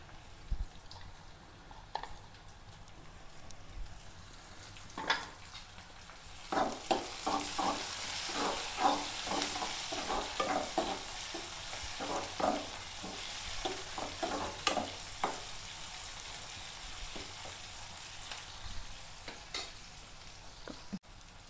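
Curry leaves fry in a pan with a steady close sizzle, punctuated by a run of sharp crackles and pops that cluster through the middle and thin out toward the end.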